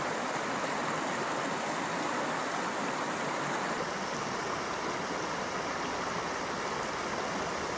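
East Fork Hood River flowing along its shoreline in Mount Hood National Forest, Oregon: a steady, full rushing wash of water, close and constant throughout with no voices.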